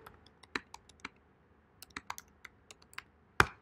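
Typing on a computer keyboard while writing code comments, a quiet, irregular run of close, crisp key clicks with a louder final keystroke, no talking.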